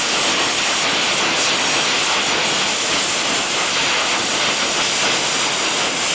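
A heart-bar insert being welded into a horseshoe, giving a continuous loud, close hiss and crackle that stays even from start to finish with no voices over it.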